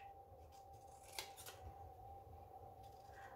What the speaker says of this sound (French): je vais détourer un renne pour vous montrer